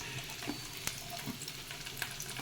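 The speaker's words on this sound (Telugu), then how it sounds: "కరివేపాకు ఇవి బాగా వేయించుకున్నాం" Onion, green chilies and curry leaves frying in hot oil in a pan, a faint continuous sizzle with scattered small pops and crackles, no speech.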